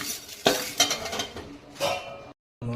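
Fenugreek seeds dry roasting in a pan while being stirred, with a few clinking scrapes of the spoon against the metal, a brief silence, then the stirring resumes close by.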